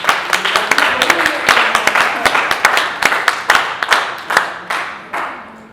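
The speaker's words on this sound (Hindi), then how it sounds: "तालियां भी कम हो गई हैं आपकी अभी" Audience applauding at a women's poetry recital (mushaira), loud, close rhythmic claps from a handful of people that gradually thin out and fade.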